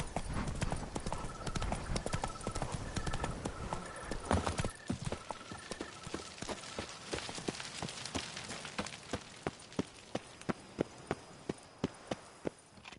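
Horse hooves clip-clopping in a video game, a fast busy run that slows into distinct, evenly spaced hoofbeats as the rest of the soundscape fades, leaving crisp, close strikes at the end.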